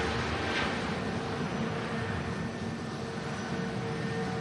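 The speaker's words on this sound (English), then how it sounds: "And this is the EasyJet" An EasyJet airliner at Manchester Airport, a broad steady jet engine roar, loud and continuous without letup.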